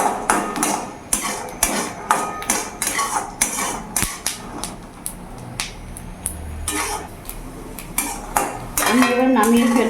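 Peanuts being fried in a pan, stirred with a metal utensil that clinks and scrapes in a steady run of sharp strikes, close and fairly loud, with no talking.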